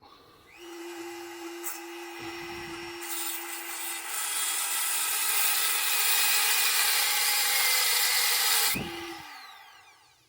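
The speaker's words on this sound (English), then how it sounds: "I'm gonna have to cut it into it with a Dremel" A Dremel rotary tool cuts into a stuck bolt during a brake job on a 2021–2024 GMC Yukon XL Denali. It gives a high, steady whine that grinds harder as it bites, runs close for about eight seconds, then spins down.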